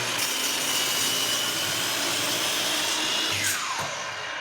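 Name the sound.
miter saw cutting end off wood stock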